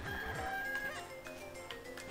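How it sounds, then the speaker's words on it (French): A golden chicken in the Zelda: Minish Cap video game clucks in short chirpy synthesized bursts over the game's tonal background music, with no one speaking. "Regardez une poule d'or en plus."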